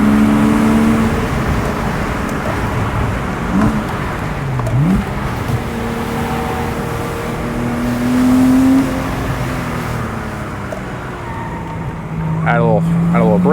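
Porsche 987.2 Base Boxster engine droning and revving through the gears while driving, loud and close, its pitch rising and falling, with someone talking over it and brief high squeals near the end.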